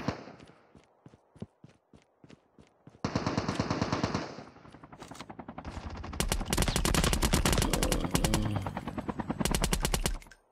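Rapid automatic gunfire from Call of Duty Mobile: sparse single shots at first, then sustained loud bursts of machine-gun fire with overlapping shots and game effects, and no talking.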